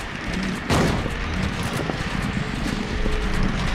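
A game gunshot from Silent Hill 2 cracks once near the start, followed by steady low ambient rumble with faint scattered knocks and no talking.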